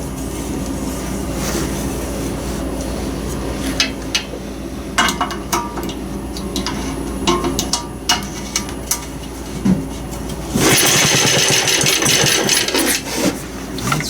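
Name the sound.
PA engine with no oil scraper ring attempting to start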